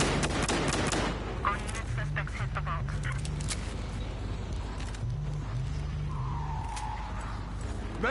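Gunfire from a shotgun in the video game Battlefield Hardline, a dense run of loud, sharp blasts mixed with other game noise, under steady talk from a player.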